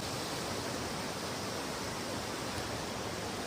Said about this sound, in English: you can hear the noise of the water